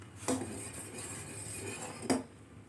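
A spoon stirs ragi porridge in a metal pot, giving two distinct clinks against the pot with soft scraping and bubbling between them; no voices.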